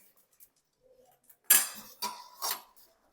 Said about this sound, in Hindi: अब इसके साथ में डालूंगी मेथी और बहुत अच्छे से इनको मिक्स कर लूंगी।